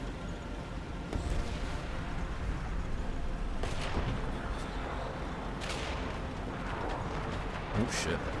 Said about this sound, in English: there's totally new cannon sounds